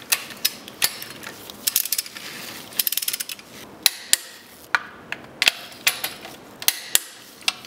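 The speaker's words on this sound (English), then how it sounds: "these little nuts get torqued to 32 to 45 foot-pounds" Passenger-side motor mount nuts on a 2003-2013 Mazda3 being tightened with a torque wrench to 45 foot-pounds: sharp, close metallic ratchet clicks in uneven bursts, with brief pauses between strokes.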